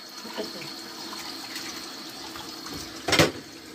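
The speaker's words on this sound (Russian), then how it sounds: "Обед готовится, а хозяйка посуду моет." Water runs from a tap while dishes are washed in a quiet room, faint and steady, with a short louder splash near the end.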